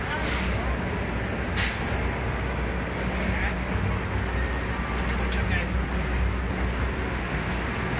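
Loud hiss of a city bus's air brakes on a Washington DC street, a couple of sharp releases over steady engine rumble and traffic noise, with people talking nearby.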